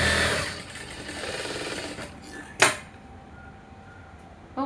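A sewing machine stitching a blouse lining runs in a steady close whir for about two seconds, then a sharp click and a quiet pause before it restarts.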